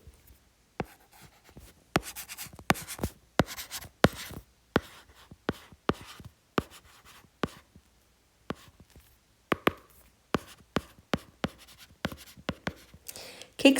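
Writing on a board during an immunology lecture, with a long series of sharp, close taps and scratching strokes spaced irregularly, separated by near silence and with no talking.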